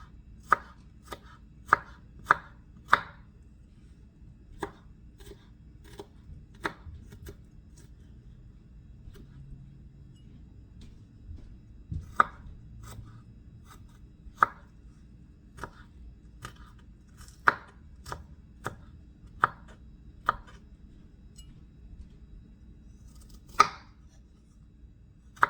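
Onions being minced with a knife on a cutting board, bursts of crisp rapid chops separated by pauses, close and clear over a quiet low background hum.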